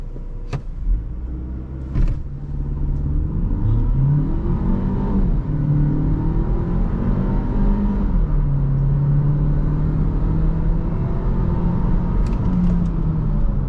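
A 2024 Renault Arkana 160 HP mild hybrid in sport mode accelerates on a night drive, its engine note rising and falling through gears with a steady interior rumble and no talking.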